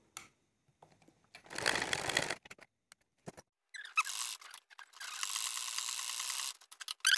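Sewing machine running in short bursts then a longer sustained run, stitching along the edge of a kameez neckline, fairly close with mechanical whirring and clatter, no talk.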